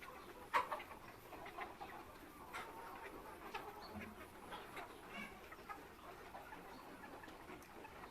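Chickens clucking on a poultry farm, a quiet scattered chorus of birds heard from some distance with a sharper call near the start.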